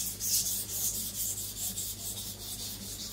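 A Zwilling Five Star compact chef knife is drawn steadily across a whetstone, giving a continuous gritty rasping scrape in rhythmic strokes at close range, with no talking.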